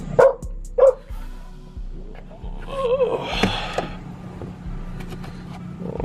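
Two sharp dog barks ring out close by at the start, followed by quieter background noise and faint rustling, with no speech.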